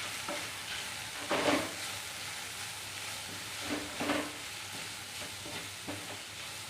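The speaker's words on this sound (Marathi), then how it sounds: "चवीपुरतं मीठ, मसाले घालून मिक्स करून घेऊया." Pasta masala and spices being stirred in a pan at home, with a soft continuous sizzle and a few louder scraping strokes of the spoon roughly every couple of seconds.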